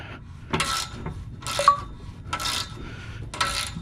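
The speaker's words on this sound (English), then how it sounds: "I can just continue to take the nut off completely now" Metal wrench on the shift cable nut of a 2002-2006 MINI Cooper S, heard as four evenly spaced bursts of rasping, ratcheting turns, close and moderately loud, with no voices.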